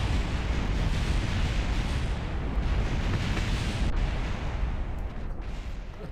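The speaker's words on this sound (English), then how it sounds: "I do like the new explosions" Rocket explosions in the video game Kerbal Space Program, a dense, continuous low rumbling roar of blasts that stays loud throughout and eases slightly toward the end, with no talk.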